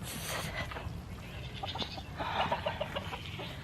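Goats bleating and chickens clucking on a small farm at feeding time, a loud nearby bleat followed by scattered clucks and calls over a steady outdoor background, with no talk.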